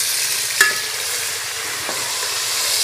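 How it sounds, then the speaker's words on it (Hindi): Tomatoes added to hot oil in a pan, a steady bright sizzle with a sharp scrape of stirring near the start and a softer one later, close and alone. "ये हम ऑयल में टमाटर ऐड कर रहे हैं।"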